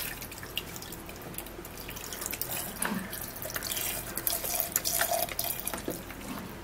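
Water runs and trickles steadily into a glass, with faint drips and splashes throughout, fairly close and without speech.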